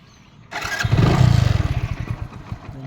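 A 2018 Hero Splendor Plus i3s BS4 motorcycle engine cranks and catches on the electric starter, then settles into a loud, rapid, pulsing idle close by.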